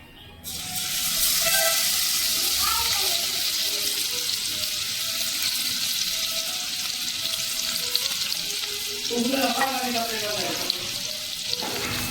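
Crushed garlic fries in hot oil with asafoetida for a village-style mud crab curry, making a steady bright sizzle from start to end, with a brief voice in the background near the end.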